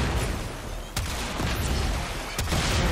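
Rocket launcher fire in Warframe's Deadlock Protocol: two sharp, booming blasts about a second and a half apart, standing out from a dense, continuous wash of in-game combat noise.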